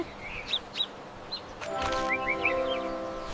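Starling calls: a series of short high chirps and whistles, then a denser stretch of warbling, squeaky song at moderate loudness over faint background noise.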